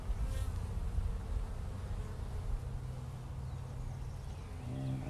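Honeybees swarm around a robbed-out hive, a close, continuous droning buzz that holds steady throughout with no talk.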